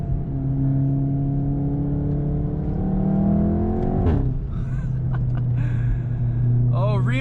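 A Volkswagen Golf R Mk7.5 with a Remus valved catback exhaust idles with a deep, throaty rumble, then revs up sharply, with voices talking over it.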